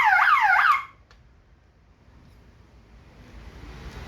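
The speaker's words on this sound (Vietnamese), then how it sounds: "Khi nào mà nguồn điện dự phòng nó, ví dụ đây, mất cái nó sẽ có còi hú." A 220V single-phase power-failure alarm siren for shrimp ponds wails loudly with a rapid rising-and-falling electronic tone for under a second, then cuts off, leaving quiet background noise.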